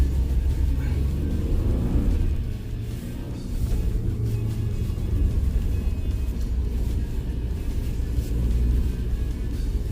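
A new Ford Bronco in sand mode climbs a sandy off-road hill, its engine a loud, continuous deep rumble that eases slightly for a moment before pushing on.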